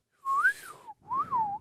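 A person whistles two sliding notes, each rising then falling, the second done breathing in, close and clear with no talk over it.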